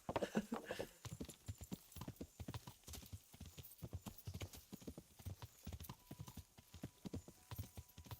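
Horse hooves clip-clopping in Kingdom Come: Deliverance, a steady galloping rhythm of sharp repeated hoofbeats with a brief whinny near the start, riding toward water in a medieval setting.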